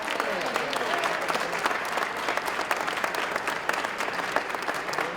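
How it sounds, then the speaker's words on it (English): A crowd at Bridgeport Day at the Connecticut State Capitol applauds the superintendent of schools with sustained, even clapping and a few faint voices mixed in. "give her a round of applause"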